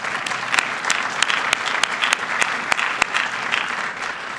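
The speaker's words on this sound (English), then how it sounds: "You can applaud those fine men and women." Audience applause for EPA staff at a keynote event, a steady dense wash of many hands clapping with sharp individual claps popping out, sustained loud and continuous with no talk over it.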